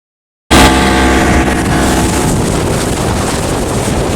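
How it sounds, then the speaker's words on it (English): A boat engine roars at sea off the central Oregon coast as ocean spray hits the hull, starting abruptly from silence into a loud, steady, wind-buffeted rush that stays constant throughout with no talk. "The engine roars and the ocean is trying to pour a little bit of its salty contents into our boat in the form of spray."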